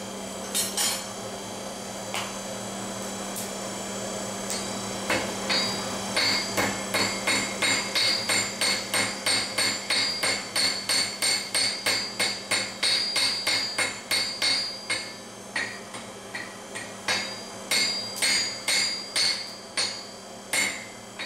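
Rapid metallic hammer blows ring out while a pruning knife is forged, beginning sparse and then settling into a fast, even rhythm of sharp, close, loud strikes that continue without talk.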